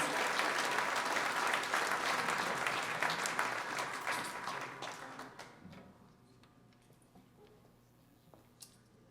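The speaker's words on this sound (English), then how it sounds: "Hey, thank you for that applause." Applause from an audience at a live music show, loud and dense at first, then thinning and fading away over several seconds until only scattered claps and quiet room sound remain.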